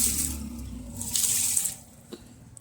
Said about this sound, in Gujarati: ચલો પાણી રેડી દીધું.